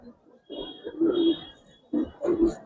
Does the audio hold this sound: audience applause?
no